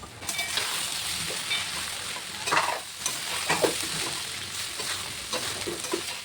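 Flattened rice being stirred together with fried vegetables in a pan for chirer polao, a soft continuous sizzle broken by scraping and tossing sounds from the spatula, close up and without voices.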